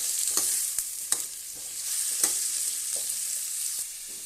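Salted radish pieces sauté in hot oil for sambar, giving a steady soft sizzle with occasional crisp clicks and scrapes of a stirring spoon, close but fairly quiet, with no voices.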